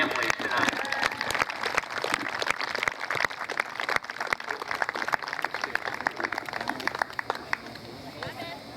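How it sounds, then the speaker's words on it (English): A crowd claps and cheers for seniors and their families at a high school girls' soccer senior night, steady loud applause filling the field with a voice over it. "let's give a last round of applause for all our seniors and their families tonight"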